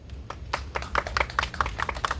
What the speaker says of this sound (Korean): 우리 박수 다시 한번 할까요?